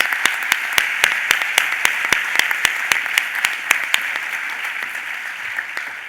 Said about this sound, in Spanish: Yo creo que se merecen un aplauso.